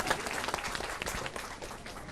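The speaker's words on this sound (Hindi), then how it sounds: "एक बार आप अपने लिए तालियां बजा दें।" Applause from a group of women trainees at a Patanjali village training centre, a dense, steady patter of many hands clapping for about two seconds at moderate distance, with no talk over it.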